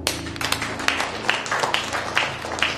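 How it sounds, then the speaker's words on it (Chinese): Office staff clap together to send off a departing colleague, a steady, dense patter of applause with sharp individual claps throughout. "好啊，大家鼓掌欢送一下吧。"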